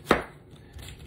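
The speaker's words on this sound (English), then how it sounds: "I'm just going to cut it up in fairly thin slices" A single sharp knife chop through cabbage on a board, one close, crisp thud with a brief bright attack, then quiet room tone.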